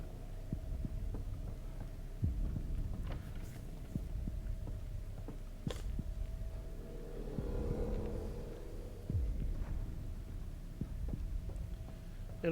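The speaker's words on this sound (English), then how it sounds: "the sound of a heartbeat in the background" A low, muffled heartbeat throbs in the background of The Evil Within 2, soft repeated thumps over a steady eerie hum, faint and ambient with no talking.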